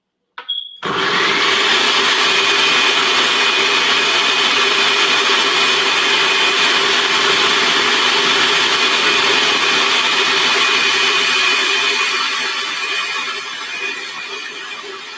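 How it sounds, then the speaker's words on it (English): A blender grinds sea moss in a loud, steady whir with a high whine, starting abruptly after a brief click and running continuously, easing slightly near the end. "If it don't go quick enough, I'm gonna go get the other blender though."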